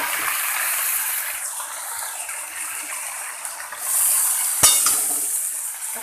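Taro (kochu) fries in a pan with a broad, steady hiss of sizzling oil. A brief sharp clink of a utensil comes near the end. No voices.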